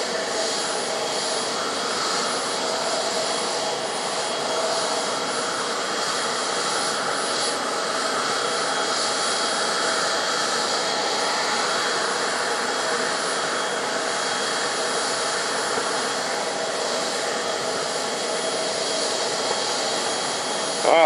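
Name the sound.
F-4 jet aircraft engine running before taxi testing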